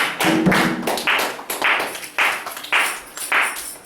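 A congregation at a church service in rhythmic applause, sharp claps falling in a regular beat, each one ringing briefly in a reverberant room.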